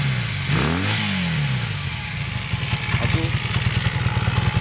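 A Honda CB 400 N cafe racer motorcycle runs with its intermediate silencer removed, its engine revving up and falling back then settling into a gruff, pulsing idle, loud and close with no talk over it.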